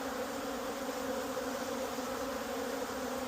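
Dense, continuous buzzing of many bees close by at a beehive, a steady droning hum with no pauses.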